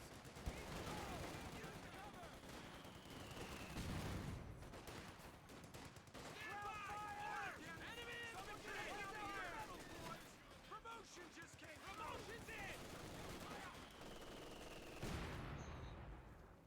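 Machine gun fire in a Company of Heroes 2 match comes as repeated rattling bursts and scattered battle shots at a moderate distance, running beneath a commentator's steady talk throughout.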